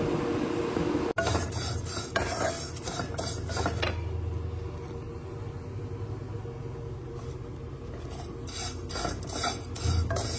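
Vermicelli is sautéed in olive oil in a pan, with a steady low sizzle under repeated scraping and clinking of a utensil against the metal, one sharp knock near the start and busier stirring toward the end.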